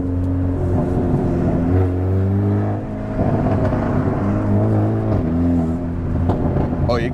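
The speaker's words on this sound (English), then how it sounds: "You get the sound out back, the blow-off valve up front." A Hyundai Veloster N DCT on an N75 Stage 2 tune revs its exhaust, with a brief blow-off valve whoosh near the end. The engine drone is loud and steady, and people talk over it.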